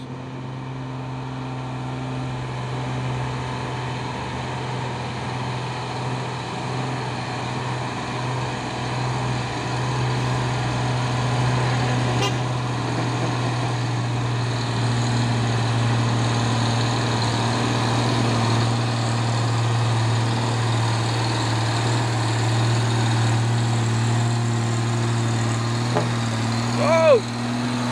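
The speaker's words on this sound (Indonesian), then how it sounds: "Truk tronton Fuso coklat ini ya." A brown Fuso tronton truck rated at 190 PS runs with a steady low engine drone that holds level from start to finish.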